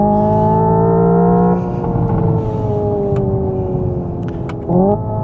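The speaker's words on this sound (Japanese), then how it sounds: "加速お楽しみいただけてると思います。" A Hyundai IONIQ 5 N high-performance electric car accelerates hard, its loud rising synthetic whine climbing in pitch, briefly dropping as a shift is simulated, then climbing again, with no voices.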